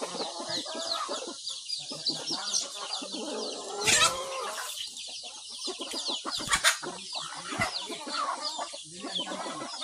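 Well-fed backyard hens on a farm in the Philippines clucking and chattering steadily, a flock close by with overlapping calls and occasional louder squawks.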